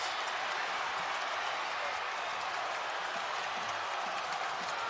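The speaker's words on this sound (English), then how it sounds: "Can't even quiet the crowd." A packed crowd at a VHSL AA state championship basketball game between Gate City and Robert E. Lee roars and applauds in a dense, unbroken wash of noise that fills the whole stretch.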